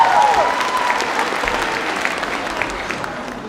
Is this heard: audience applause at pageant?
yes